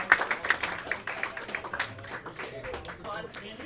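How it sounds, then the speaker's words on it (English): Scattered clapping greets curlers returning from the ice at a 2018 curling bonspiel, heard in the warm room as light, uneven hand claps under nearby talk. "Our third event finalists coming back off the ice, getting a round of applause in the warm room here."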